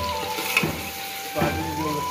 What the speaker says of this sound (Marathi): तेल गरम झालेलं आहे, आपण त्यात आता कांदा टाकलेला आहे मस्तपैकी। बारीक चिरलेला कांदा टाकला